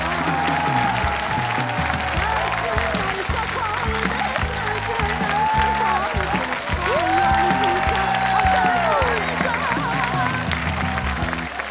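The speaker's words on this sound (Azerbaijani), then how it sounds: "Alqışlarınızdan!" An audience at a children's TV talent show claps for a steady stretch under tonal backing music, and the applause swells slightly toward the end.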